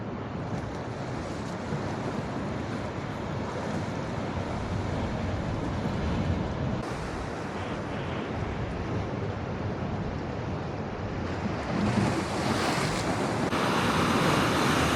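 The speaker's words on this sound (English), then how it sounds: "But look at these waves. This one coming in here." Ocean waves roll in and break on an Arctic shore beside heavy concrete and stone seawalls, a constant roaring wash of surf mixed with gusty wind noise and swelling louder toward the end.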